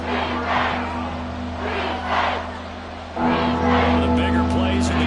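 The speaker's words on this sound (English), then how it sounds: "The crowd getting into it as we come up on a big 3rd down." A stadium crowd in a Madden football video game roars and cheers in a sustained wash of noise. A steady low tone runs underneath, and the crowd swells louder partway through.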